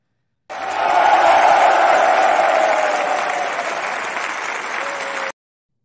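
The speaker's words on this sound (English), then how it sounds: "the reason why these guys applaud you" An audience bursts into a sustained round of dense applause, loud and steady for about five seconds before cutting off, with no voices over it.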